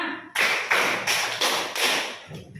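A class of students claps together in a rhythmic pattern of five crisp, evenly spaced unison claps, loud and close, with a quiet pause and a faint sound at the end.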